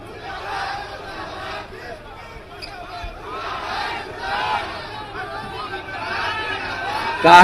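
A large crowd at a Nitish Kumar public rally raises noisy chants and shouts of 'murdabad' slogans, a sustained babble of many voices that swells in waves and gets louder near the end.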